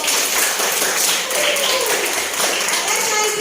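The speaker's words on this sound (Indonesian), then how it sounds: "Tepuk tangan dong untuk" An audience claps for group 3 after their presentation and sociodrama, a steady close run of applause lasting the whole clip.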